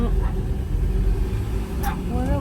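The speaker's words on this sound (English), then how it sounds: "We're just waiting for a car to go." A car drives past on a road near the Talia Caves on South Australia's Eyre Peninsula, a steady close rumble of engine and tyres over wind, with faint birdsong chirps near the end.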